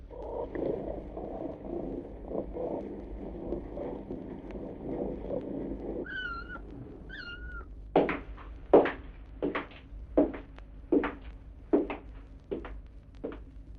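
After a low rumbling purr, a small kitten gives two short, high meows, followed by a series of soft, regular thumping steps.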